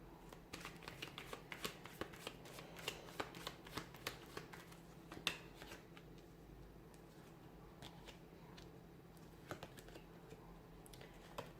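A tarot card deck being handled and shuffled, with a long run of crisp, close card riffles and flicks for several seconds, then fewer, softer card sounds toward the end, no talking.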